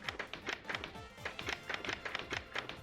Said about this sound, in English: And they also have all different door sounds